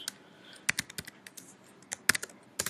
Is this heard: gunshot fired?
no